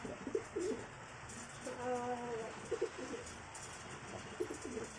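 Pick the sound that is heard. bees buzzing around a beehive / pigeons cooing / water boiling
pigeons cooing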